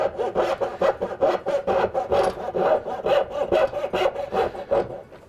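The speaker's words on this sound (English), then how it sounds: "I just turn it sideways in the vise and start cutting" Hand saw cutting dovetail waste from a wooden workpiece clamped sideways in a vise for a splayed stool, with quick rhythmic back-and-forth strokes, close and alone.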